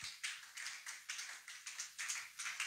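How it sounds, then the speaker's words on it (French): A church congregation claps in a steady rhythm, sharp hand claps repeating about three times a second at moderate loudness, with no voices over them. "Acclamons le Seigneur."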